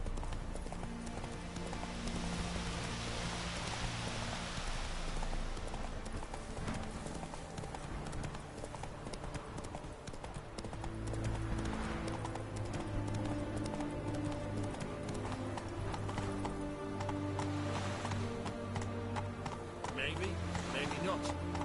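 Roach, Geralt's horse in The Witcher 3: Heart of Stone, gallops with a steady rapid hoof rhythm that runs throughout, set in a dense game score with an occasional voice over it.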